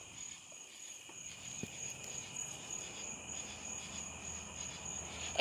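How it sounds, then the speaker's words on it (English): A large grasshopper chirps outdoors at night, a steady high insect trill running continuously and fairly close, with a faint rustle and a louder knock right at the end. "It's a big grasshopper."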